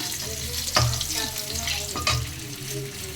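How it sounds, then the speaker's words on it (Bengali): Whole garlic cloves fry in oil in a pan, giving a steady close sizzle with a few sharper bursts of crackle and clatter as they are stirred. "রসুনগুলো আলুর সঙ্গে ভাজবো মনে ছিল না, ওই জন্য এখন ভেজে নিচ্ছি আলাদা করে"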